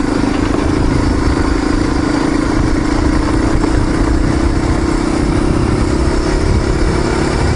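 Dual-sport motorcycle climbing the Nate Harrison Grade, its engine droning loud and steady at close range with a constant rumble and clatter throughout, no voices.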